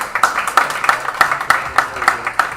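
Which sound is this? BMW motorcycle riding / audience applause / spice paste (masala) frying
audience applause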